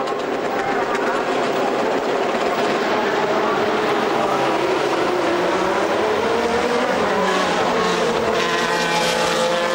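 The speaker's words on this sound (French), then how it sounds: "Et c'est reparti pour la Ferrari 430 GT2 numéro 3." A Ferrari 430 GT2 race car accelerates away during a GT race at Monza, a loud, sustained engine roar with a rising pitch that fills the whole stretch, with no talk over it.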